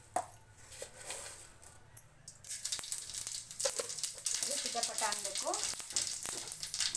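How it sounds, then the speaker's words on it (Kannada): Mustard seeds and cumin hit hot oil in a pan, starting with faint clinks and a few crackles before a loud, steady sizzle and popping take over and continue to the end. "ಇವಾಗ ಸ್ವಲ್ಪ ಸಾಸಿವೆ ಜೀರಿಗೆ ಹಾಕ್ತಾ ಇದ್ದೀನಿ ನೋಡಿ ಫ್ರೆಂಡ್ಸ್"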